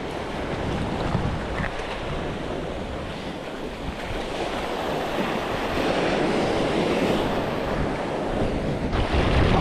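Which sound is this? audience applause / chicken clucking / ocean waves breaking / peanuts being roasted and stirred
ocean waves breaking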